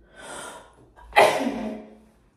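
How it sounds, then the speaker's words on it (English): A single sneeze: a quick breathy intake, a brief pause, then a loud sharp burst that trails off. "I need to sneeze."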